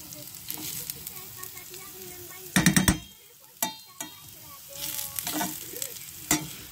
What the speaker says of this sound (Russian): понимаете, обжарить. Вот он, чтобы так пропитался в масле.